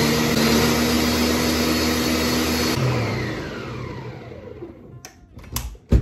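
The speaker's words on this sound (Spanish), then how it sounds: "la vamos a licuar de nuevo" A blender whirs loudly, blending a strawberry and pineapple drink, then cuts off partway through and spins down, leaving a few sharp knocks and clatters near the end.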